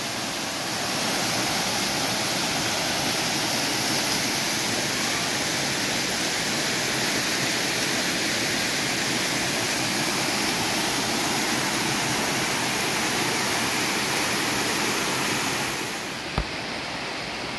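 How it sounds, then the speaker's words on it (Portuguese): A waterfall in Guaramiranga, Ceará, Brazil, pours in a constant, dense roar of falling water, steady and loud throughout, ending with a brief knock. "Cachoeira aqui, ó."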